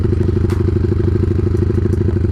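A motorcycle engine idling while warming up after sitting unused for five days, a loud, close, steady low throb with an even rhythmic pulse and faint clattering.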